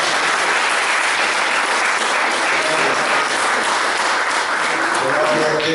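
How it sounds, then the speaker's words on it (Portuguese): A church congregation claps together in a loud, sustained round of applause that fills the room throughout, with voices mixed in. "Vamos dar uma salva de palmas para você."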